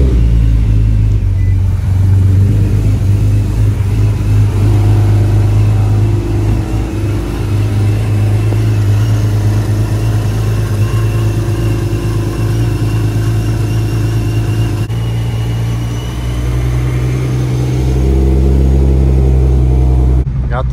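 A supercharged Nissan 370Z engine runs with a loud, steady low rumble, swelling and settling slightly as it idles and revs, heard up close with faint voices underneath.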